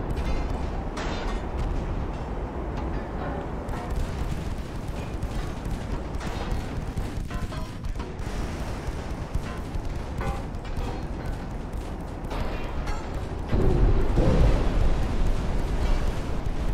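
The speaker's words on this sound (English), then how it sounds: "13 more torpedoes just hit me" Torpedoes striking a battleship in the naval game Ultimate Admiral: Dreadnoughts, a steady dense barrage of booming explosions and rumbling impacts over a continuous roar, growing heavier and louder near the end.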